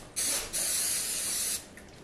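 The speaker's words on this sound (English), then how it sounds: "I'm gonna spray the pan a little bit." Cooking spray hissing onto a baking pan for a giant cookie in a home kitchen, one brief spurt followed by a steady sustained spray of about a second, close and clear.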